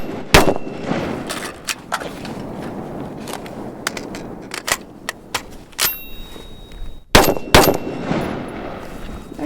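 Tavor TAR-21 rifle shots fired outdoors, sharp loud cracks singly and in quick pairs spread across several seconds, with quieter handling noise between them.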